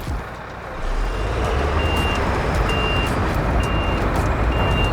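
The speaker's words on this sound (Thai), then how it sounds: "เพิ่งได้ยินเสียงถอยนะ" A truck's reversing beeper in the video game SnowRunner chirps at a regular pace over a loud, steady engine rumble, with no talking.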